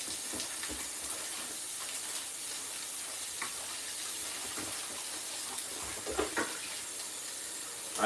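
Water runs faintly and steadily in a kitchen sink as dishes and silverware are washed, a soft continuous splash with small clinks and a steak sizzling nearby.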